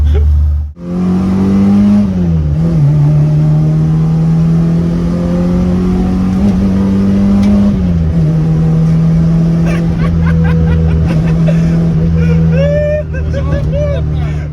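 A Citroën AX Sport race car engine, prepared for circuit use and near the end of its break-in, holds a steady, loud drone with pitch rising and dipping as it revs in town, while voices talk over it.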